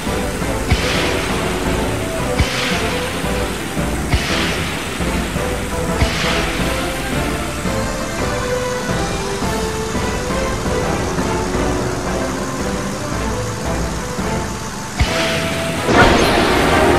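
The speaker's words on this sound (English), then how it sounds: "Time to boost into the gong to ring it and set off the last flurry of fireworks" Fireworks finale set off by a plane ringing a gong in Disney Planes, a loud, dense stretch of crackling, booming bursts with repeated sharp pops over a steady roar and game music.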